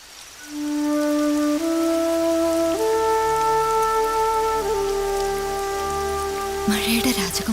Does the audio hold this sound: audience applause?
no